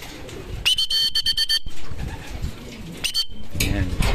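Racing pigeons cooing and fluttering nearby as they arrive from a training flight, with scraping and rustling movement and a soft voice murmuring in the background.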